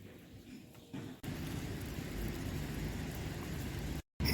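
Steady rain hisses outdoors at the portico of San Vicente Church in Baracaldo, a broad, even wash of noise heard close, broken by a brief dropout near the end.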